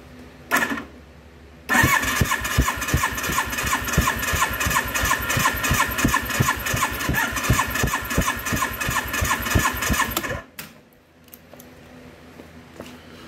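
A 1982 Suzuki GS1100L motorcycle engine cranks on the starter with the throttle wide open during a warm compression test, a steady rhythmic chugging churn lasting about nine seconds after a brief blip, then stopping into quiet.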